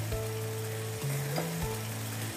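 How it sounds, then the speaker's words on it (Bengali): Mawa added to a simmering malai safed gosht curry sizzles and bubbles in a pan, a steady close frying hiss with a faint low hum underneath. "একটু মাওয়া দিচ্ছি"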